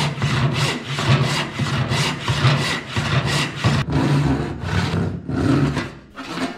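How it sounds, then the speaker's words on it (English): Hand saw cutting through a wooden board along a gauge line, loud close rhythmic back-and-forth strokes, about a dozen rasping pulls at an even pace, alone without talk. "Periodically, I flip the board around and saw from the other side to stay close to the gauge line on both sides of the board."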